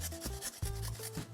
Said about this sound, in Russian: В мелкой терке натру 1 зубчик чеснока.